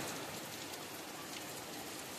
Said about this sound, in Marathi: कालपासून रात्रीपासून हा पाऊस चालू झालेला आहे की असा पाऊस पडतोय ना जोरदार